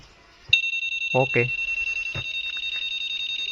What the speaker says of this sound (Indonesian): alarmnya anti malingnya sudah aktif